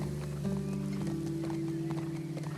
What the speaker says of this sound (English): This is where the horse picks up speed.